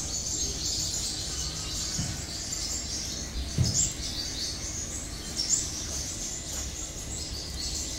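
Caged sunbirds, including five-colored sunbirds, in Da Lat give thin high chirps and tweets over a steady background hiss, faint and intermittent, with no talk.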